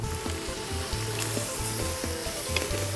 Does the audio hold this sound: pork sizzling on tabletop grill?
yes